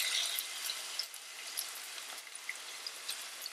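Chopped red onion frying in oil in a pan, giving a soft, steady sizzle with small crackling pops throughout, fairly quiet and with no voices.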